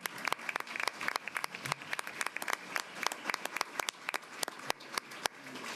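Scattered, uneven applause from attendees at a school board meeting, many separate claps forming a loose, moderately near patter that carries steadily throughout with no talk over it.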